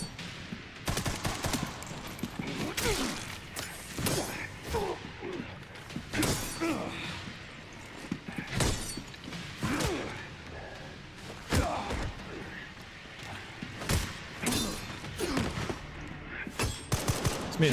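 Gunfire in Resident Evil 9 cracks out in repeated loud bursts and single sharp shots, with thumps and impacts scattered across the stretch and faint voices underneath.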